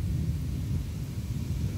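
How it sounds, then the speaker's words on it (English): Continuous low rumbling of thunder during a severe summer thunderstorm in southeastern Pennsylvania, a dense, steady roar that holds its level throughout without distinct cracks or speech. "I'm not going to be able to sleep with all this thunder"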